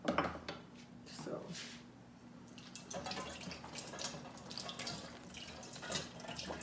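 Water runs from a kitchen tap in a hotel room, a steady splashing hiss with dripping, while a person cooks nearby with faint clinks of dishes.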